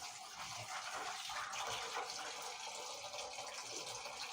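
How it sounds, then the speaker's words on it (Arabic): Water gushes steadily from a tap, filling a pot for boiling lupini beans, with a continuous splashing rush and no voices. "هنحط عليه ميه ونسلقه."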